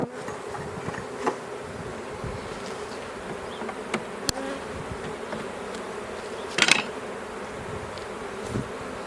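Honey bees hum steadily while a package of bees is installed into a hive, with a dense, close buzz continuing throughout and occasional faint knocks from handling the equipment.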